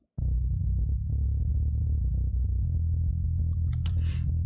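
Isolated low-end bass layer captured with a Yamaha sub kick and processed through a Dark Glass plugin, heavily limited; a steady, pinned-down deep rumble with a sharp onset, sustained alone, with a brief brighter burst near the end.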